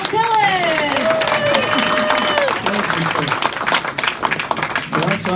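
Audience applause and cheering welcome a country singer onto a stage. It is loud, dense and sustained throughout, with voices calling out over the clapping.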